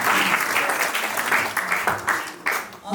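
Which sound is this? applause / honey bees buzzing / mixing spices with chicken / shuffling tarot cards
applause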